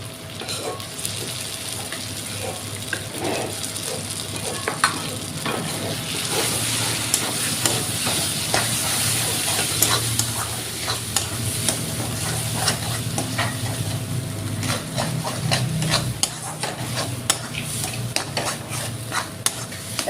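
Taro leaves and garlic are stirred and fried in a wok, with a steady sizzle and the repeated scrape and clatter of a spatula against the metal, close and continuous.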